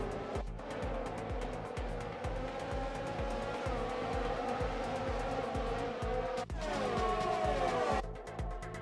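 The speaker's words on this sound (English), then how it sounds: "Oh, this was the front wheel lock from Vettel" A Formula 1 car in F1 2020 at the Brazil circuit, engine revving in a steady pulsing drone, with a high tyre squeal from Vettel's locked front wheel rising over it and breaking off near the end.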